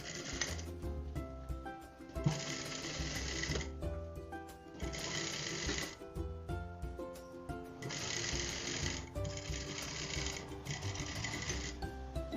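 A sewing machine runs a topstitch in several bursts of rapid, even mechanical clatter, pausing briefly between runs, close and moderately loud.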